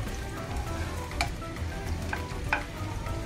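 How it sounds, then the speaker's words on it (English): Chopped garlic and curry leaves sauteing in hot oil in a pan, a continuous close crackling sizzle with scattered sharper pops, steady and moderately loud with no talking. "Start sauteing till golden color."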